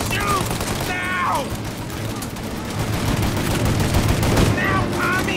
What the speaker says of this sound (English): Shoot out your gun when there's a break in the fire! Then reload! Shoot!